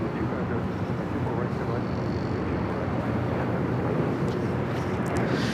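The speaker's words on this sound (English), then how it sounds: "There is a Delta A350 that's heading to Tokyo Haneda, flight 7." Delta Airbus A350 jet at LAX, bound for Tokyo Haneda, gives a steady broadband roar of engine noise that holds constant the whole time, with no talking.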